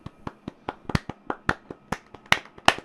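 Several people clapping in a room, sharp uneven claps at varied loudness, some near and loud, forming a loose scattered rhythm without any talking.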